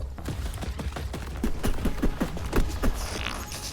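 Rapid bursts of gunfire from the Borderlands 4 video game trailer, a dense volley of sharp repeated shots fired in quick succession over a loud, busy background.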